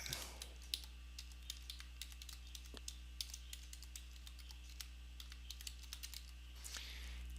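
A password is typed on a computer keyboard in quick, uneven bursts of faint key clicks, close and quiet, with a slightly louder keystroke near the end.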